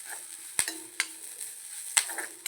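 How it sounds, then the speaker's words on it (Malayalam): Grated coconut roasting in a pan with fennel seeds, garlic and curry leaves, stirred with a few sharp scrapes against a soft, steady sizzle; quiet and close, with no voices. "നന്നായിട്ടൊന്ന് വറുത്തെടുക്കട്ടെ"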